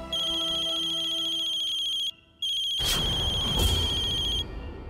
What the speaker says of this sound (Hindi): पल्लवी चाची का फोन।